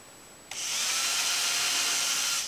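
A power drill, using a nail as its bit, starts after a brief quiet moment and whirs steadily, loud and close, a bright grinding buzz continuing without pause.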